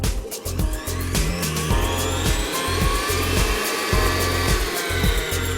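An electric mixer whirs steadily through cake batter with butter and sugar, a continuous motor drone with rhythmic pulsing as the beaters churn, close and fairly loud, no voices.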